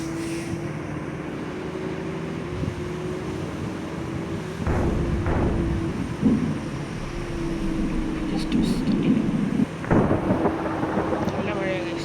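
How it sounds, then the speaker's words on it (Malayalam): Heavy rain and thunder in the game Bus Simulator Indonesia, driving a KSRTC Volvo sleeper bus on a mountain map: a steady engine drone with a constant wash of rain, and two loud thunder crashes partway through. "നല്ല മഴയാണ്."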